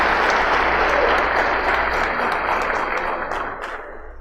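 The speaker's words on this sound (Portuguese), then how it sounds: "eu queria que vocês dessem uma salva de palmas" An audience at a church event in Goiânia gives organizers a round of applause, dense crowd clapping that holds steady and then tapers off, with no talk.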